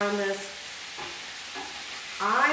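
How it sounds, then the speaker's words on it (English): Lamb from a farm share browns in a hot pan with a steady, close sizzle; stirring scrapes break in near the start and end. "I'll be talking over the sizzling of this as I brown this."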